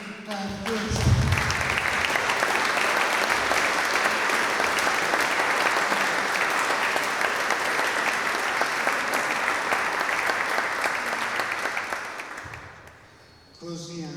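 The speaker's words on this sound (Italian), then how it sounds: "io farei un applauso a questo" A seated audience at a talk on living with Parkinson's breaks into loud, sustained applause that swells quickly and holds for about eleven seconds before fading, with a voice heard briefly at the start and end.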